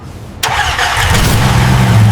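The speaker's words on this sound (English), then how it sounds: "Listen to that V10 scream." A restored Bugatti Veyron with a V10 engine, recovered after years underwater, cranks and fires with a sharp onset, then settles into a loud, rising, close-up engine roar that builds steadily.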